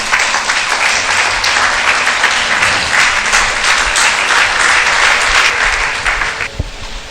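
A church congregation breaks into loud, sustained applause to acclaim the Lord, a dense wash of many clapping hands that fills the room and then fades near the end.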